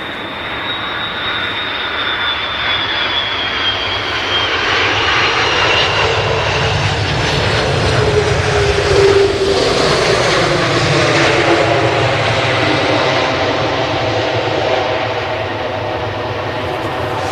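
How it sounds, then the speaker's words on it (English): An Aer Lingus airliner arriving from Orlando lands on runway 05R at Manchester Airport, a loud, steady engine roar holding throughout, with a whining tone that slides down and a brief swell near the middle. "So that was the Aer Lingus in from Orlando."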